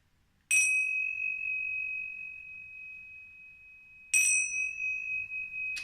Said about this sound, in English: I'm just going to let you hear them there for a second.